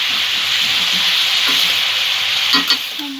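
Ginger paste and spices fry in a pan with a steady, loud sizzle while a utensil stirs, scraping now and then, with no talking.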